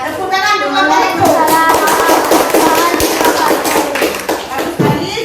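A school class claps for a group of pupils, a loud burst of scattered hand claps and taps in an indoor classroom, mixed with children's voices and some talking.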